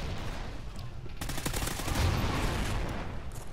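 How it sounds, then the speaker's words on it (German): Turret gunfire in Call of Duty: Ghosts, a mounted gun on a ship firing a dense, sustained stream of shots with heavy low booms, growing louder toward the middle and holding steady under a busy game mix. "Ja, guck mal, dieses scheiß Geschütz!"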